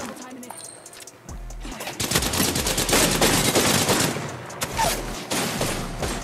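R99 and Peacekeeper gunfire in an Apex Legends match, heard as dense rapid automatic bursts that swell after a quieter opening and keep going almost nonstop, with game ambience underneath and player voices mixed in.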